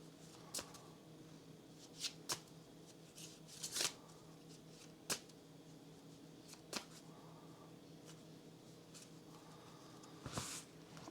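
Playing cards for a tabletop kingdom-building card game are shuffled quietly, giving soft scattered riffles and card snaps spaced a second or two apart over a low room hum.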